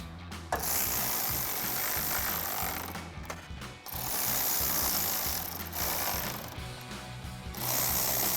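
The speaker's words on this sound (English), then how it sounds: "I'll throw my ratchet on the other end to tighten them down." A hand ratchet tightens bolts on a 2014-2015 Chevrolet Silverado 1500 headlight, clicking in fast continuous runs close to the listener, broken by a few short pauses as the handle is reset.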